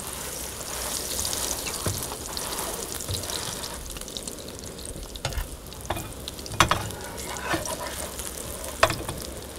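A napa cabbage pancake sizzles and crackles steadily in a pan outdoors, with soft pops and a faint breezy background.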